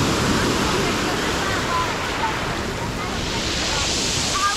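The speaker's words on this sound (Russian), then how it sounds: "Сбила волна вообще." Sea waves break on a beach at Kobuleti, Georgia, in a loud, continuous roar of surf and foamy wash mixed with wind buffeting the microphone.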